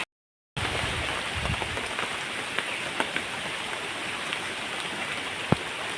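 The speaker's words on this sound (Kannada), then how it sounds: "ನಾನು ನಿಂತ ಪ್ಲೇಸಲ್ಲಿ ಮಳೆ ಬರ್ತಾ ಉಂಟು." Steady rain falls outdoors after a brief moment of silence, a dense even patter with occasional distinct drops close by, continuing unbroken with no voices.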